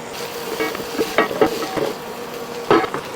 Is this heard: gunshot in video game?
no